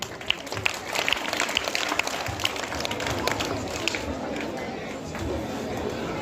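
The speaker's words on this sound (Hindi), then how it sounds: "मुरली मनोहर के लिए भी तालियां।" Audience applause at a school prize distribution, a steady dense clapping from a crowd filling the whole stretch, moderately loud with no pauses.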